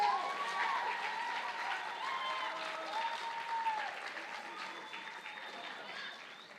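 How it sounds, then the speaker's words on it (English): An audience at a middle school percussion concert gives steady, fairly distant applause that slowly fades over several seconds, with a voice briefly heard in the room. "How about a round of applause for Miss Sarah Duvall one more time?"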